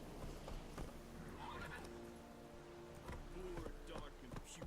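A horse in The Witcher 3: Wild Hunt clip-clops along with repeated hoof strikes and lets out clear whinnies, the sounds steady and close under occasional talking.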